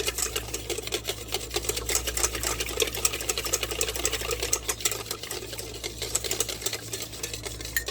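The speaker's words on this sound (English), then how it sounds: "right now I'm going to mix all of our wet ingredients really well" Wet ingredients for a low carb chicken pot pie soup whirring steadily in a mixer, a continuous motorized hum and buzz lasting throughout with no talk.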